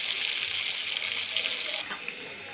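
A burger patty fries in a pan with a steady, close hiss of sizzling oil that carries on unbroken, dropping slightly in intensity near the end; no one speaks.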